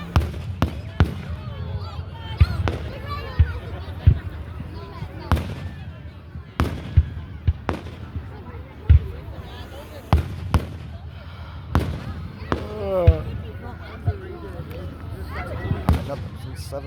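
Town fireworks for Canada Day crack and boom in a long irregular series of sharp bursts, some near and loud, others fainter, with crowd chatter and voices talking in between.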